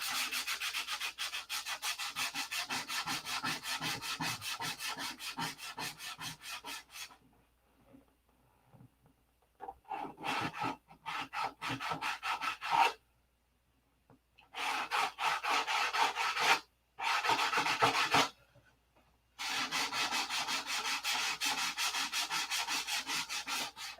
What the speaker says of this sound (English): it's just a bunch of sanding